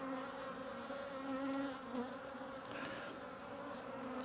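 Honeybees buzzing at an open hive during a split, a steady close hum with layered pitches and brief swells as individual bees pass near, with no talking.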